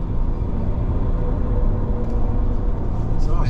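A Ford Ranger engine at full throttle on the Wodonga Logic circuit gives a loud, steady low rumble with continuous road and wind noise throughout.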